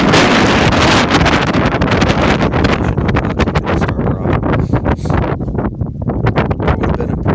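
Strong outdoor wind on a sunny day buffets the microphone with loud, roaring gusts that fill the whole stretch, easing slightly and turning choppier toward the end.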